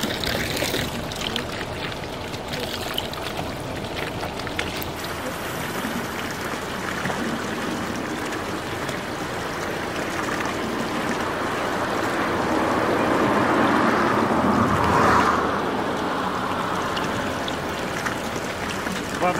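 Slow stream of cold spring water flowing from a roadside spring in Dagestan, a steady broadband rush running throughout and swelling slightly near the end, with background noise around it.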